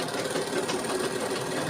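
A sewing machine stitches cloth with a fast, even mechanical whirr, close and steady for a brief moment.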